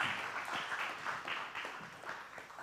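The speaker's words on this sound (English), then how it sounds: "I'll give her a big round of applause" Scattered applause from a festival audience at a children's cultural talk, a steady broadband patter of many hands at moderate, somewhat distant level, fairly even across the whole stretch with no talk over it.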